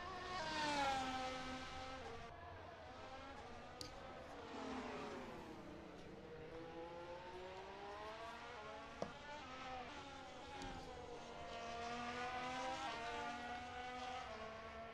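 A race car on a hot lap around the Pinwheel circuit, its engine rising and falling through gear changes in a steady, sustained drone, moderately distant, with no voices over it.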